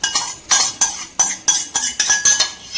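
A spoon clinks steadily against a metal pan while curd is stirred into mushroom thokku. About eight sharp scraping strokes come in a regular rhythm, close and clear, with no talking.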